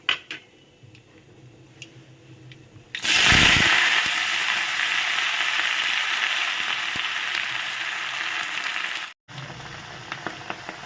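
Mustard greens dropped into hot oil tempered with nigella seeds burst into a loud, sudden sizzle after a quiet stretch of faint crackling, then hold a steady close hiss before briefly cutting out and resuming.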